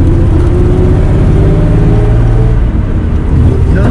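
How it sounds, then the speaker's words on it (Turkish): A Mercedes 300SL Gullwing engine runs with a loud, steady, deep rumble throughout, recorded close and with little variation in pitch. "İnanılmaz güzel bir motor sesi var"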